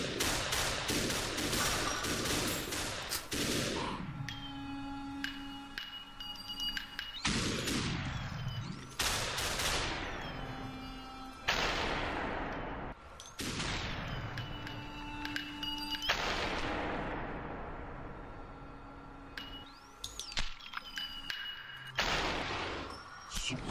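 Video game gunfire and bullet impacts crack and boom over and over, with dense volleys and sharp shots coming in waves above a steady layer of game noise.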